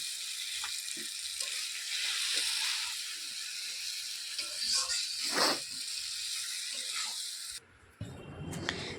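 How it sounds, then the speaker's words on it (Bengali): Fried potatoes drop into hot masala in a home kitchen pan, setting off a loud steady sizzle with light stirring scrapes, close up. "আমি একটু ভেজে রাখা আলুটা দিয়ে দেবো"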